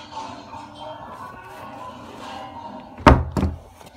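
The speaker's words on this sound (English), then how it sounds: "Hold on, shut the door." A door is shut with a sharp, loud thunk followed by a brief rattle, close by in a quiet room after a stretch of low background noise.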